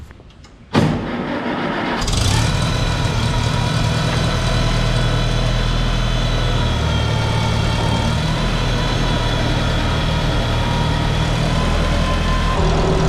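A Farmall tractor with a C123 engine cranks briefly, then starts and settles into a loud, steady running rumble that holds close and continuous to the end.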